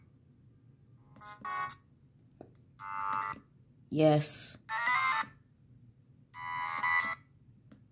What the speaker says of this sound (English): I think the Brazilian version only has the MIDI ringtones.